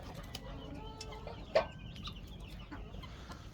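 A chicken in a coop clucks softly in short, scattered calls over a low, muffled background, with one slightly louder cluck near the middle.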